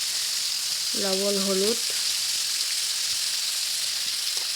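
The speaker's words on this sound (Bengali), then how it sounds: "তো দিয়ে দিলাম মাংসটা ভাজতেছি আর কি, ভেজে ভেজে" Meat frying with fried onions in a pan, a steady, close hiss and sizzle throughout, with one short spoken word partway through.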